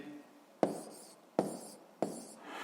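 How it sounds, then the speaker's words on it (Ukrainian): Pen strokes scratching across paper while an answer is written out by hand in three short bursts, each starting with a sharp tap and then scraping, close and quiet, with no talk. "пишемо відповідь, записуємо відповідь"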